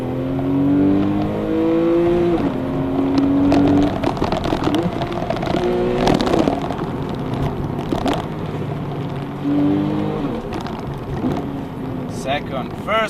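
A Porsche 991 Targa 4S with PDK gearbox climbs a winding mountain road above Monaco, its engine note rising in repeated revving pulls with quick gear changes, close and loud, with intermittent talk over it.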